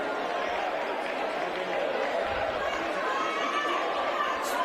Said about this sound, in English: I can hear Sawyer Nicholson's crowd cheering for her.